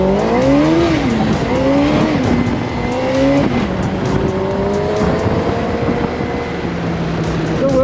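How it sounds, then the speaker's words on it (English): A street go-kart powered by a Suzuki Gixxer motorbike engine races past, its loud engine rising and falling through the gears in a high, sweeping whine, with tyre noise and a faint voice beneath. "that Gixxer does sound amazing"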